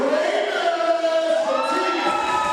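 A crowd cheers and shouts at a grade 7 all-star youth basketball game during player introductions, loud and sustained with raised voices and whoops that swell and shift over the short stretch.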